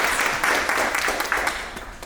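Audience applause at a tech community gathering, a steady wash of many hands clapping that holds for the whole moment and tapers slightly toward the end.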